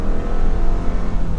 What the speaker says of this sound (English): we're really stressing the engine a little bit